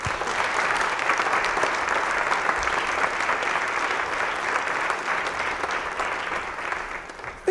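An audience claps to welcome a speaker at a church faith formation gathering, with dense, sustained applause from a room full of people, steady and fairly loud before tapering at the end.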